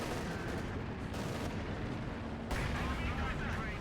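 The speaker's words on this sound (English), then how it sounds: "And the Panther comes in from the side with that high velocity cannon" A Panther tank's high velocity cannon fires in Company of Heroes on Amily Fields, its boom folded into a dense, loud roar of battle noise, with a commentator talking over it.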